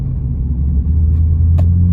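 Truck driving along a highway, heard from inside the cab as a loud, steady low rumble of engine and road noise with a couple of faint brief clicks and no talking.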